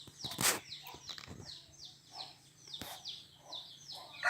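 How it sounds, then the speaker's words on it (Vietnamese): Wild jungle fowl call in a series of short, descending chirps, repeated every half second or so at moderate distance, with a few sharp knocks and rustles mixed in. "con gà rừng nhá,"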